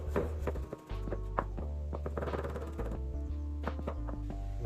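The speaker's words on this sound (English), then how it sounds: "Now let's chop up our vegetables." A knife chops vegetables for lasagna on a board, giving a series of close, irregular taps and thunks over a steady low background hum.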